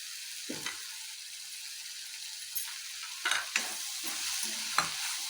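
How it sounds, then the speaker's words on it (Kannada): Tomatoes and Byadagi chili fry gently over a low flame for Punjabi-style paneer butter masala, with a soft, steady sizzle and a few close spoon-stirring scrapes, and no talking. "ಟೊಮೊಟೊ ಸಾಫ್ಟ್ ಆಗೋವರೆಗೂ ಚೆನ್ನಾಗಿ ಸ್ವಲ್ಪ ಲೋ ಫ್ಲೇಮಲ್ಲಿ ಚೆನ್ನಾಗಿ ಫ್ರೈ ಮಾಡ್ಕೊಳ್ಳಿ"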